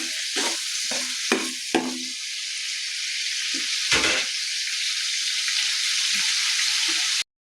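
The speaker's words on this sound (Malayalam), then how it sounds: "സവോളനെ നമുക്ക് പൊരിച്ചെടുക്കാം. എണ്ണയ്ക്കിടാം. ഇടയ്ക്കിടയ്ക്കൊന്ന് ഇളക്കി കൊടുക്കാം." Sliced onions frying in oil, a steady, loud close sizzle running throughout, broken by several stirring scrapes early on and a few more later, stopping abruptly at the end; nobody speaks.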